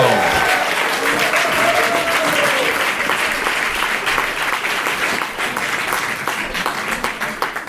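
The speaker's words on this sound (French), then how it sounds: "On les applaudit bien fort" Audience at a small theatre applauding performers, a loud, dense and sustained burst of clapping that gradually thins toward the end, with a voice briefly audible early on.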